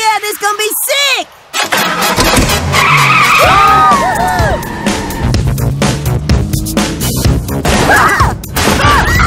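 In a cartoon, a newly bought sports car revs and speeds off, with repeated loud tire screeches and skids and crashing impacts over a busy engine roar, while cartoon characters shout and talk throughout.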